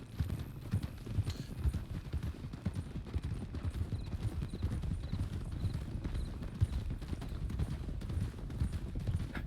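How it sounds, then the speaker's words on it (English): A horse canters in Red Dead Redemption 2 roleplay, its hooves clip-clopping in a fast, continuous rhythm at moderate level with no talk over it. "let's pick it up to a canter"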